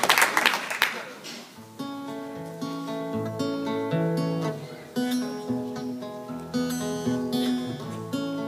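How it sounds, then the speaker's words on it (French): Audience applause at a live stage performance of a song, a dense burst of clapping in the opening second or so that quickly fades as the instrumental music takes over. "Les applaudissements, même si l'artiste est déjà sur scène."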